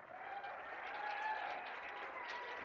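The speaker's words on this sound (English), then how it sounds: "How about another round of applause for all of our senior athletes?" A crowd at a high school game applauds senior athletes, steady, even clapping from a large gathering, heard from a distance and sustained throughout.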